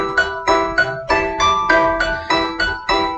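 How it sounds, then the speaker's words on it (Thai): Ringtone played through Google Find My Device to locate a misplaced phone indoors, a melodic electronic tone in repeating bursts at a steady rhythm, close and fairly loud with no voices. "ให้โทรศัพท์เราเนี่ยมันส่งเสียงเราจะได้รู้ว่ามันอยู่ตรงไหนนะคะก็ลองกดไปดูปุ๊บแล้วมันก็จะมีเสียงขึ้นมาค่ะ"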